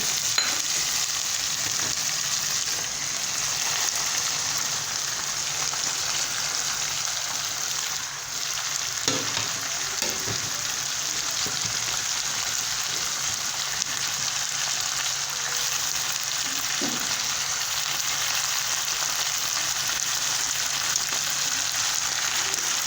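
Mixed vegetables for a traditional Bhogi bhaji hitting hot oil, a loud, steady hissing sizzle that runs unbroken for over twenty seconds, with a few soft knocks of stirring.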